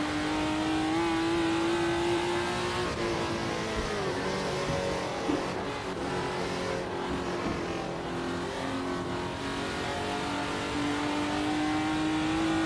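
Retro race car in Assetto Corsa on the Battenbergring, its high-revving naturally aspirated engine screaming loud and close throughout with steady harmonic tone, brief dips at gear changes, then climbing again.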